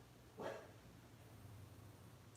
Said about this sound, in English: I don't know what my dog's barking at